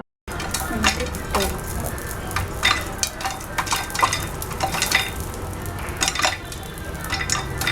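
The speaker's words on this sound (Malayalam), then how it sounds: "ഇപ്പൊ നല്ലതുപോലെ ഒന്ന് പൊട്ടാൻ തുടങ്ങിയിട്ടുണ്ട്." Popcorn pops inside a pressure cooker: irregular sharp pops crackle close by over a steady frying sizzle, coming in quick scattered bursts.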